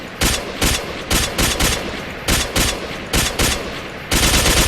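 Automatic gunfire in an online multiplayer shooter video game, loud rapid bursts of shots in quick repeated volleys, close and dominating with no talk over it.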